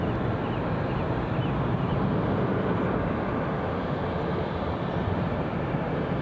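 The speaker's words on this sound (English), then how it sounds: "whilst EasyJet taxi out for their departure to Amsterdam." An EasyJet airliner taxis out for departure at Edinburgh Airport, its engines giving a steady, broad roar that holds at a constant level throughout, with no voices heard.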